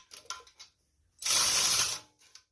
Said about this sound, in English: So this one, I'm using a swivel and a short socket.